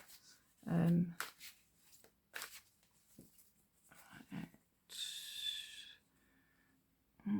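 Thick-cardstock oracle cards are shuffled in short, uneven bursts of riffling and sliding, with soft handling noises and quiet pauses in between.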